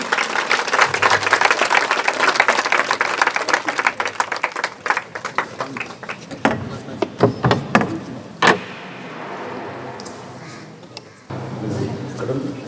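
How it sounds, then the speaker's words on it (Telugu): Applause from a crowd gathered at a house-blessing and birthday celebration for Mother Mary in Vegeshwarapuram, Eluru, heard as dense, loud clapping over the first half that thins into scattered claps, with voices and background bustle. "అందరూ గట్టిగా చప్పట్లు కొట్టండి"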